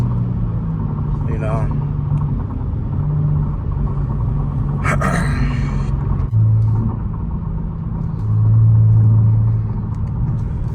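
A Kia Stinger GT1 sports car building speed to about 70, heard from inside the cabin as a steady, loud low engine drone with slight rises in pitch, and muffled voices underneath.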